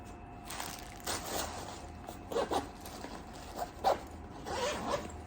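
The zipper on a Converse Go 2 backpack is pulled open in several short, rasping bursts, close and clear with no talking over it.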